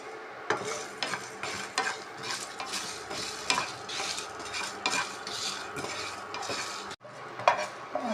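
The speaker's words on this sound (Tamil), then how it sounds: "மசாலா நல்லா வறுத்தாச்சு" Whole spices dry roasting in a pan for paneer kadai masala, with a light sizzle under repeated clinking and scraping strokes of a utensil against the pan. The sound is close and irregular, with a brief pause near the end and no speech.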